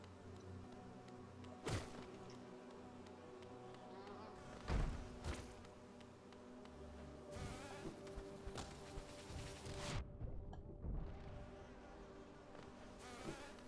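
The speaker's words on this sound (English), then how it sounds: "Just kind of taking it to the face here, getting punched by bees." Bees from the Hollow Knight video game buzz in a steady insect drone, broken up by sharp in-game thumps and hits, with no talking over it.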